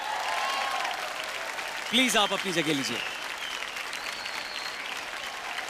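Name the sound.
applause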